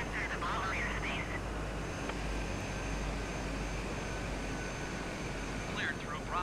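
Steady drone of a Cessna airplane engine in a flight simulator game flown over Washington, D.C., a constant low hum running throughout with faint voice-like chirps near the start and end.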